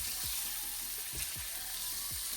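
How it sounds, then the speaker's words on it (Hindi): Cubed chicken frying in a pan gives a steady, close hiss of sizzling oil, with a few soft low thumps as the pieces are stirred. "चिकन ऐड करेंगे और 5 से 10 मिनट तक हम इस चिकन को कुक करेंगे"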